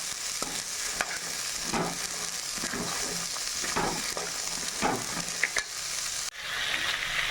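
Black chickpeas fry with curry leaves in a pan under a steady close sizzle, broken by repeated scraping stirs of a spoon every second or so, with no talking.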